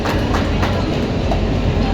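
The Venkatadri SF Express runs along the rails at close range, a loud, continuous rumble with rhythmic clickety-clack of wheels over track joints and no talking.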